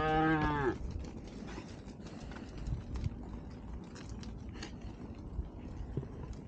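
A cow gives one loud, close moo at the start on a farm, followed by quieter rustling, shuffling and chewing sounds of cattle nearby.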